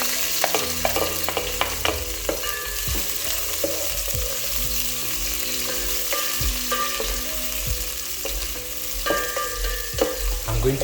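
Onions hit hot cooking oil and sizzle loudly and steadily, with occasional scraping and stirring knocks from a utensil in the pan throughout.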